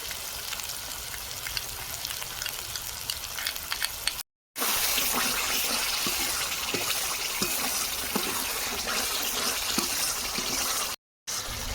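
Water is poured into a pan of curry as spiced masala fries in oil, giving a steady rushing hiss and sizzle that runs continuously, broken by two brief silent gaps.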